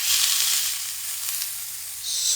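Thin smashed burger patties sizzle loudly on a hot griddle for a cheeseburger, a steady bright hiss that dips slightly midway and swells again near the end, close up with no talking.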